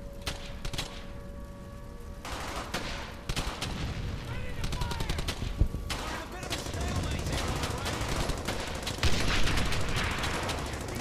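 Bursts of gunfire from the World War II shooter Brothers In Arms: Hell's Highway crackle almost nonstop, with rapid automatic volleys and single cracks, loud and layered over battle noise while players shout and talk.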